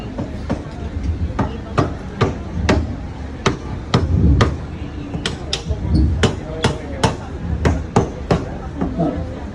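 A hammer strikes metal rivets in a regular series of sharp, close, loud knocks with brief pauses between them.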